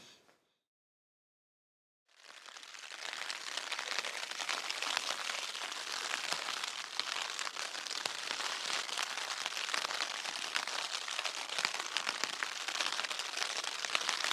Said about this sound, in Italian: stamattina è pioggia